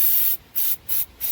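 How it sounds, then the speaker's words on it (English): Throttle body cleaner sprays in three short, sharp hissing bursts from an aerosol can into an engine during a hard-start diagnosis, close up with brief pauses between each burst and no talk. "So I'm gonna spray this down in here."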